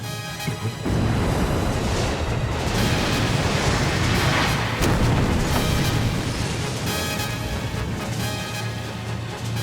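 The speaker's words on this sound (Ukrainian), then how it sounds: "Георгіус врізався у Себастьянуса." An animated airship crashing into another airship, a sustained roaring rumble with deep booming impact noise and a wash of broadband noise that swells and holds, loud and dense with no voices.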